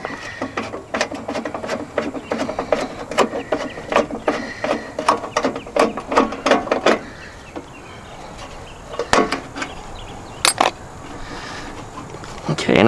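A ratchet backing a screw out of a VW Type-3 engine during removal, with a rapid run of close clicking strokes, then quieter mechanical rattles and a few sharp metallic clicks.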